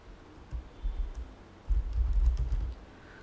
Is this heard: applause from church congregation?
no